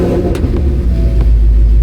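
A 2018 Ford Mustang GT V8 fitted with a custom prototype cold air intake idles close by, a loud, steady low rumble with a couple of faint clicks on top.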